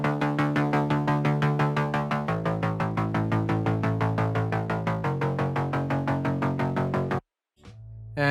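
A distorted moon bass synth in FL Studio plays rapid, even pulsing notes that shift between a few low pitches, loud and gritty, then cuts briefly to silence before resuming.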